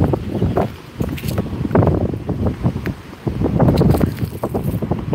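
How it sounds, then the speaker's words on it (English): Wind gusts across an outdoor spot on a cold day, a broad rushing roar that buffets the microphone in swelling waves, loud and close with no talk over it. "It is windy right here."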